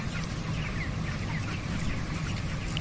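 Broiler chickens in a poultry house holding about 6000 birds, a dense low chorus of clucking from many birds at once, steady and fairly faint, with no voices over it.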